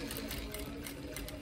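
A sewing machine stitches the hem of a pair of trousers, running in a steady, continuous whir close by with no pauses across the whole stretch.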